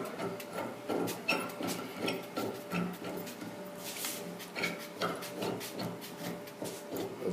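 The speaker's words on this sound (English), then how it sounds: "The new cable adapter gets screwed into the weight pole" Close, continuous small scraping and clicking of a cable adapter being threaded onto a gym machine's weight-stack pole, with quick irregular metallic ticks and rubbing throughout and no talk.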